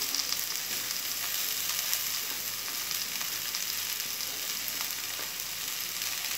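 Steady, even sizzling of cabbage frying in a hot pan, a constant crackling hiss with no voices.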